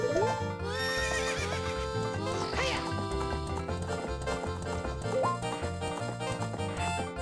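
Epona, the horse in Ocarina of Time, whinnies with a bright rising neigh over continuous loud game music, with faint hoof clip-clop underneath and no talking.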